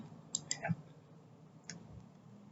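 Computer mouse clicked a few times in quick succession while setting folder security permissions, crisp and close, with a faint low background hum and no speech.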